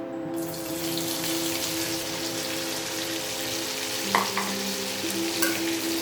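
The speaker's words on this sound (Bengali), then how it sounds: "এবার দারচিনি দেওয়ার পরে পেঁয়াজ দেব পেঁয়াজগুলোকে একটু ভাজবো" Onions frying in oil with cinnamon for a Bengali chicken curry, a steady bright hiss of sizzling with a constant low hum beneath and a couple of soft stirring knocks near the end.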